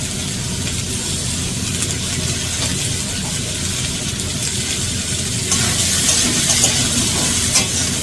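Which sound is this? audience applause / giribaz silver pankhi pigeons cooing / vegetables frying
vegetables frying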